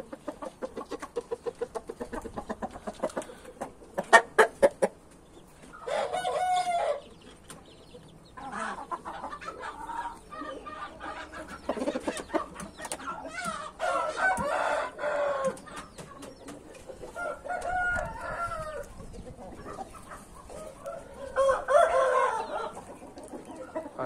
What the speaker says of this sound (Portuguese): Acho que os galos já pegaram na briga ali